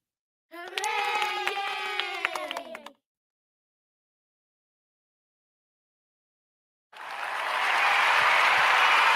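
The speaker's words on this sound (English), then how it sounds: "You see this is the team cheer." A team cheer in which a group of voices shouts together for a couple of seconds, then falls silent, followed by loud, dense crowd applause and cheering building at the end.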